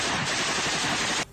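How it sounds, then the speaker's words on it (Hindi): A machine gun fired by a Chechen fighter in an attack on Ukrainian forces during the Russia-Ukraine war, a dense, loud rattling burst lasting just over a second before cutting off abruptly. "एक लड़ाका मशीन गन से एक तरफ ताबड़तोड़ गोलियां चलाता दिखाई दिया।"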